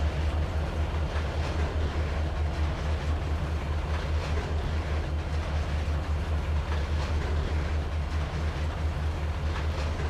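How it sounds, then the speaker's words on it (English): In Trainz 2022, an all-boxcar freight train rolls past with a continuous low rumble and rhythmic clattering of wheels over rail joints, steady and close throughout. "So we saw that AI all boxcar train go through River Point."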